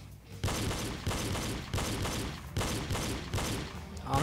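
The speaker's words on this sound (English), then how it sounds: "Shoot targets with the double tap technique." Gunshots fired in quick bursts at targets, about seven sharp loud reports spaced roughly half a second apart, each with a short decaying tail.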